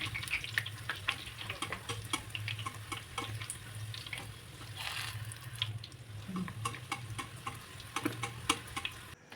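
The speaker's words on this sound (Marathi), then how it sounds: "तळताना सुद्धा अशा पद्धतीने तळायचं आहे की वरून थोडंसं झाऱ्याने तेल त्यावरती टाकत राहायचं" Mung dal snack frying in hot oil, a steady bubbling sizzle with repeated scraping and clinking as a slotted spoon ladles oil over the pieces, close and continuous with no talk.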